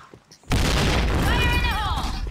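Explosion in a tactical shooter video game during team play: a sudden loud boom that rolls into a sustained rumbling blast, with a player talking over it.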